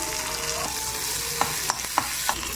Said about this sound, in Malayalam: ഇതിൽ ബാക്കി വന്ന എണ്ണയിൽ നമുക്ക് കുറച്ച് ക്യാപ്സിക്കം ഇടാം.